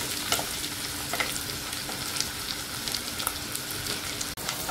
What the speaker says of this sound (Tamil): கடுகு, சீரகம் எல்லாம் போட்டு நல்லா வதக்குவோம்.